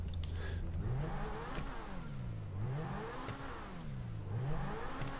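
A Turismo sports car engine in GTA IV revs repeatedly, pitch swooping up and falling back in rhythmic cycles, loud and close with a slight whir.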